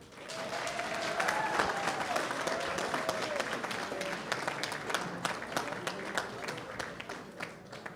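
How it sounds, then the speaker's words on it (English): An audience at an inaugural ball applauds the Prime Minister, a sustained rush of clapping that swells and then gradually thins, with a few murmured voices underneath. "round of applause."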